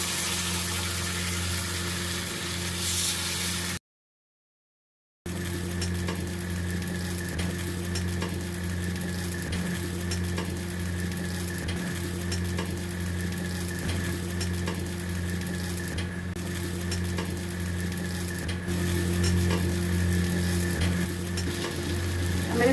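Battered bottle gourd pieces frying on a hot griddle over a gas flame, a continuous close sizzle with a steady low hum beneath, briefly cut to silence, then resuming and swelling slightly louder near the end, no talk.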